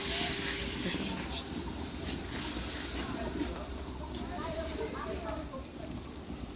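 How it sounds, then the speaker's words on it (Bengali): Food cooks outdoors over a wood-fired clay stove in a village kitchen, with a steady hiss and sizzle and faint crackles beneath nearby voices. "লাকড়ির চুলার রান্না, খাঁটি গ্রামের রান্না।"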